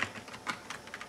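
Brief burst of typing on a computer keyboard, a few quick close key taps in an uneven rhythm, fairly quiet with no voices.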